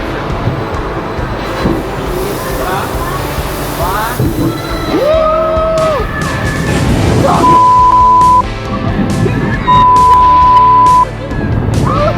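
Formula roller coaster ride at Energylandia amusement park, with loud rumbling track noise, whining tonal squeals and mechanical clatter, and voices heard over the ride.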